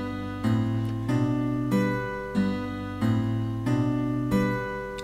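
Guitar plays the melody with a harmony part: clear plucked notes in an even rhythm, each sounding alone with no voice over them.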